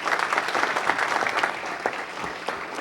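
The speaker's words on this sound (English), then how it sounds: "Everyone, please give them a round of applause." An audience at a town council meeting gives a short round of applause, steady moderate clapping from a room full of people lasting a few seconds.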